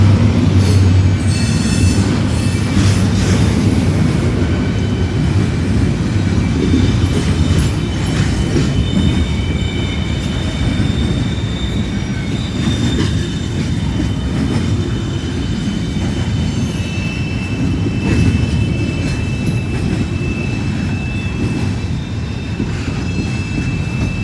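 A long freight train of empty cars rolls past close by, loud and continuous, its wheels rumbling and clicking over the rails while high metallic squeals ring out repeatedly, with no voices.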